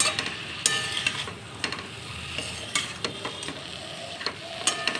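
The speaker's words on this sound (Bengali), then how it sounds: "এবার ভালো করে এটাকে নাড়িয়ে নিতে হবে" Chopped Malabar spinach is stirred in a pan with repeated scraping and clicking strokes over a steady soft sizzle, close and fairly loud.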